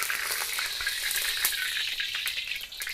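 Oil sizzling in a hot wok before frying rice with prawns and squid, a continuous close crackling hiss with small pops throughout, no voices.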